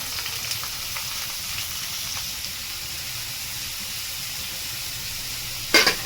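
Chopped carrot, capsicum and onion fry with cumin in a pan, giving a steady soft sizzle and hiss throughout, with a brief louder clatter near the end.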